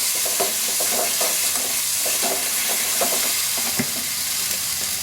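Onions fried in a pan over lowered flame for egg vindaloo, a continuous close sizzle and hiss with soft irregular stirring knocks underneath, steady and alone without voices.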